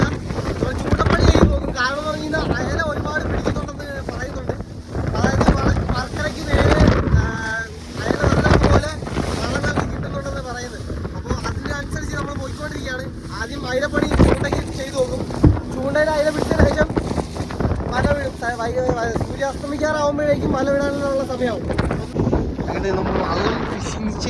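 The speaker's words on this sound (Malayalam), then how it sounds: "നല്ല കാറ്റ് ശക്തിയായിട്ടുണ്ട് കേട്ടോ" Strong wind buffets the microphone in heavy gusts over the rumble of a fishing boat and water at sea at night, with people talking throughout.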